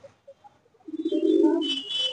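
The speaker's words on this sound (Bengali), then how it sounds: "কি সুন্দর লাগছে দেখুন পায়রাগুলো, সাদা পায়রা, ধপধপে সাদা পায়রা" White pigeons coo nearby, a few soft short notes rising into a sustained throaty rolling coo with brief higher chirps toward the end.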